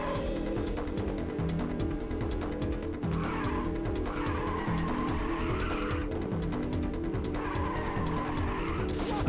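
Racing car drifting in the PSP game Ridge Racer, with a steady engine drone and repeated bursts of skidding tyre squeal over a constant backing track.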